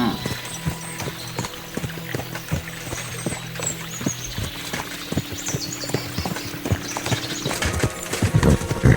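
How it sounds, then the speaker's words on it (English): Horses galloping in the game Kingdom Come Deliverance II, rapid rhythmic hoofbeats thudding close by with faint creaks of tack and an occasional snort. "we'll give the horses a gallop again"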